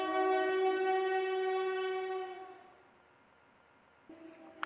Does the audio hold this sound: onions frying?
no